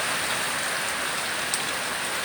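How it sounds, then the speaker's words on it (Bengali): Heavy rain drums on a tin roof in a village, a loud, unbroken wash of patter filling the space from start to finish with one brief sharper drop standing out. "এই দেখেন, প্রচণ্ড বৃষ্টি হচ্ছে আর আমরা এখানে এইভাবে বৃষ্টি দেখতেছি।"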